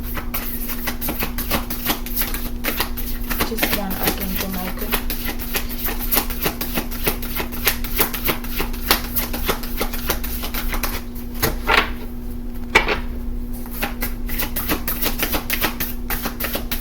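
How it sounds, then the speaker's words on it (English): Oracle cards being shuffled by hand make a dense run of rapid, dry clicks and riffling taps over a steady low hum, with a brief spoken phrase partway through. "these cards are hard for me to shuffle"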